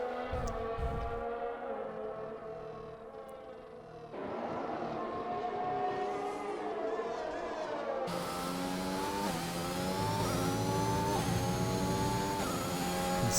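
A race car climbs uphill through a left-hand bend, its engine note rising and revving in steady, loud pulls, with abrupt changes in tone as it accelerates; no one speaks.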